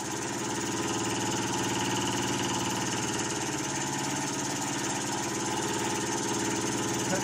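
An Empire B31 model engine runs with the throttle wide open, giving a steady, loud, buzzing drone with an even tone that holds for the whole stretch and has no talking over it.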